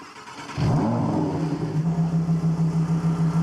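A car engine cranks and catches, then settles into a close, steady idle that pulses rhythmically, with no talking.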